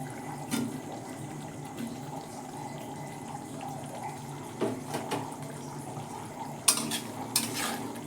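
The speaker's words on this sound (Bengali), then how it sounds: "আলুটার সঙ্গে মশলাগুলো একটু কষে নেব" Potatoes stir-fried with spices and yogurt in oil give a faint, low sizzle, broken by a few soft spoon scrapes and clicks, with sharper taps toward the end.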